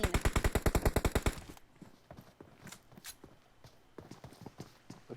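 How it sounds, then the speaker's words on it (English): Suppressed M24 sniper rifle fire in an online shooter game: a fast, evenly spaced burst of sharp shots up close, then quieter scattered clicks and thuds. "there's a big gun going off. Sounds like an M24 that may be suppressed."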